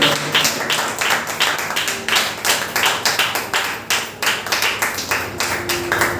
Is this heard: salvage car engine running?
no